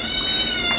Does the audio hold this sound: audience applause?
no